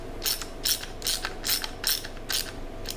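Ratchet clicking in six short bursts while tightening the center bolt on a Porsche Boxster 986 engine during IMS bearing work, close and crisp with brief pauses between strokes.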